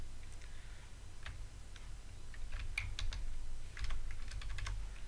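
Someone types code for an ASP.NET C# tutorial on a computer keyboard, producing scattered light clicks that speed into a denser flurry toward the end, over a steady low hum.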